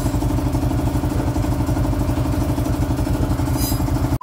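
A freshly repaired Honda TMX 155 motorcycle engine with a worn, noisy timing gear idles steadily and close, a dense rhythmic chugging with metallic clatter that cuts off abruptly at the end.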